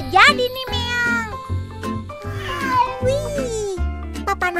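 A cartoon cat meows repeatedly in short, high calls, close and clear, with a voice speaking in between.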